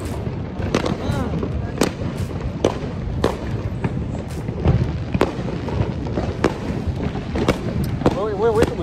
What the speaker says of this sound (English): we hear most of the fireworks coming from that way.